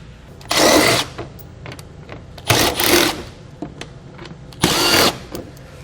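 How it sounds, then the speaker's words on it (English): Three bursts of a power tool with an 8mm socket backing bolts out of a wheel well panel on a 2019 Ram 1500, each run about half a second, loud and close, with quiet gaps between. "There's 3 bolts we're going to take out with an 8mm socket here."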